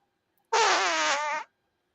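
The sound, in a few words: fart noise imitated by a person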